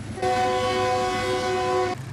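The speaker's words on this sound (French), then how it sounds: "Le klaxon assourdissant d'un train qui perturbe au quotidien la méditation continuelle des populations d'Ezeka" A passing train's deafening horn blares in one sustained, steady tone for nearly two seconds, loud and close over rumbling background noise, with no talking.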